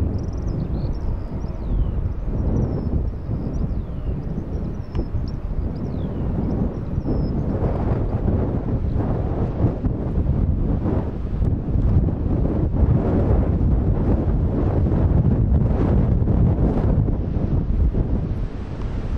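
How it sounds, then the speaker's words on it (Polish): Strong wind roars and buffets continuously around a Wizz Air Airbus A321 preparing for takeoff, with a deep rumble and gusty noise throughout and no one speaking. "Wieje coraz większy wiatr."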